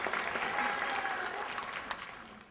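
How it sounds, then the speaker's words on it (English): An audience at a theatrical fairytale show applauds in a soft, fairly distant wash of clapping that holds steady and then slowly thins out. "Now you can applaud."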